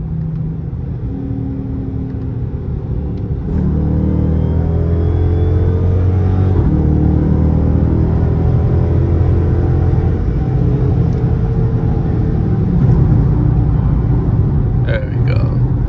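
A Dodge Scat Pack or Hellcat accelerating hard, its engine building from a steady rumble into a loud, rising rev that climbs through the gears and holds strong to the end, with a voice talking over it.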